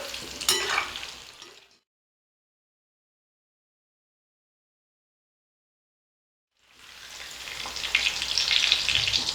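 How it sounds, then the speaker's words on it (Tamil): Chicken 65 pieces fry in hot oil while being turned, a dense crackling sizzle heard in two bursts separated by several seconds of complete silence. "இப்போ அப்படியே திருப்பி திருப்பி போட்டு நம்ம ரோஸ்ட் பண்ணிக்கலாம்."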